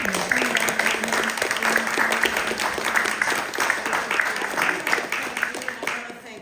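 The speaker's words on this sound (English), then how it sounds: "So I'm going to clap for all of our amazing." Audience at an Indonesia and India arts festival in California applauding the participants, continuous clapping throughout with talking mixed in over it.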